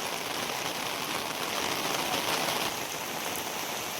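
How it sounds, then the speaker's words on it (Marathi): Heavy rain pours steadily in a Konkan village during the Ganesh festival, a dense, even hiss of drops on surfaces filling the scene, loud and close with no voices. "चला मस्त असा पाऊस पडतोय छान"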